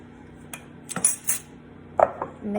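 Ground turkey being stirred with salt in a bowl, giving a few scattered clinks and soft scraping knocks of a utensil against the bowl, fairly quiet with pauses between.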